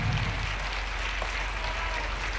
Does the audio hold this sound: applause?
yes